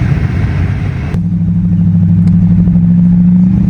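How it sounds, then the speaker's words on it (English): A Mercury Grand Marquis with a 4.6L engine on a test drive: a loud, close engine drone settles into a steady low hum with a rising tone as the car moves along. "So I'm test driving it right now, and I think all is well."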